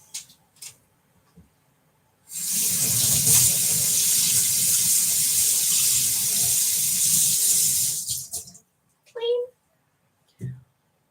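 Kitchen tap water runs steadily over vegetables, likely kohlrabi and kale, for about six seconds, loud and close, with a few brief knocks and handling sounds before and after.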